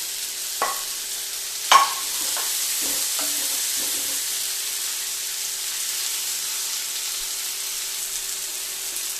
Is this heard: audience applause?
no